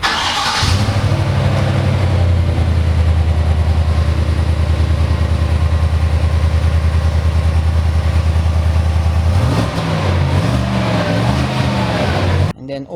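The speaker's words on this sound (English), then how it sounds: "Let's listen to the engine." 2023 Chevrolet Tahoe Z71 engine starts with a loud crank, then settles into a steady deep idle, and later blips through a few revs before cutting off abruptly at the end.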